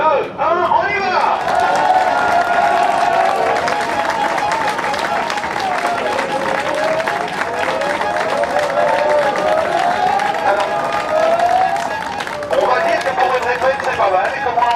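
Outdoor crowd at a cycling event on the RAVeL path in Genappe, among houses, claps and cheers steadily, a dense, loud wash of applause with raised voices running throughout.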